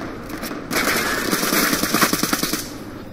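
Rapid automatic fire from an MSMC long-barrel submachine gun in a Call of Duty-style Hardpoint match, a loud sustained rattle of evenly spaced shots lasting a couple of seconds over game ambience.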